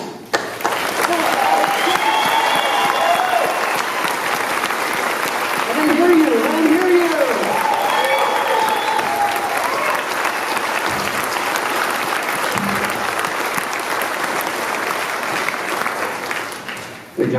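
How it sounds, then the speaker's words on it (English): Crowd cheering and clapping for the winner at the end of a memorial race, loud sustained applause with whoops and voices over it, steady for most of the stretch and easing slightly near the end. "Now let's cheer him on. Cheer so he can hear."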